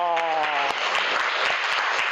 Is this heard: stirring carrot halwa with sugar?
no